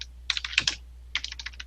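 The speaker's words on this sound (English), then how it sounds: "What's wrong with my typing tonight?" Quick bursts of typing on a computer keyboard in a dark room late at night, two close, crisp clusters of clicking keystrokes separated by a brief pause.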